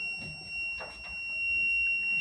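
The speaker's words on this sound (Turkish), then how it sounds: "bir yandan da burada buzzer'ımız çalışıyor insanları hemen uyandırmak için" A carbon monoxide detector robot sounds its buzzer alarm as a steady, high electronic tone held without a break, with low rumbling and a few knocks underneath.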